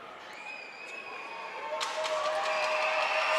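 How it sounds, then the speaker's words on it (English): A crowd at an NBL1 men's basketball game in Geelong cheers and swells louder, dense noise rising under a commentator's talk with squeaks and thuds from the court. "Geelong crowd livening up"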